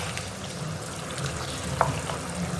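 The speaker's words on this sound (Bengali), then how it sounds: "এই মশলাটা কষানো হচ্ছে, এর মধ্যে এবার ঢেলে দেব এই টমেটো পেস্টটা" Spices frying in a pan for a pointed gourd and curry leaf curry, with tomato paste poured in: a steady close sizzle with a few soft stirring scrapes and one brief splashy clack.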